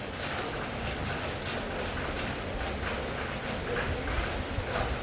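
Steady rain pours down outdoors, a dense, continuous hiss of drops on surfaces that holds at an even level throughout with no pauses.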